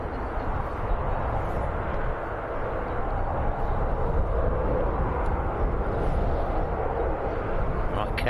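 A KLM airliner departs Birmingham Airport for Amsterdam, its jet engines a broad, steady roar that swells slightly as it climbs, heard from a distance and filling the whole stretch without pause.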